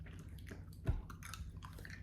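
Someone chews a dishwater-flavored Bean Boozled jelly bean, producing soft, close, wet chomping and squishing with one firmer bite, faint and without speech.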